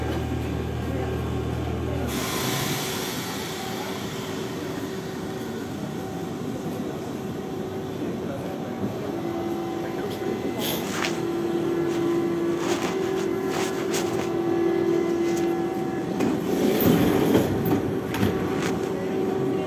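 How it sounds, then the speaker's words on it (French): RER C trains rumble past nearby at Champ de Mars–Tour Eiffel station in Paris with steady rolling noise, a sustained tonal whine rising partway through and bursts of screeching, metallic clatter toward the end. "J'adore ces trains."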